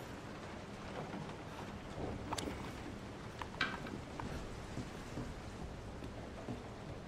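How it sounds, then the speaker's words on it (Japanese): Steady rain with rumbles of thunder in the horror video game Resident Evil 7, a continuous wash of downpour with a few faint sharper cracks, heard alone without talk. "雨がすごいですね。"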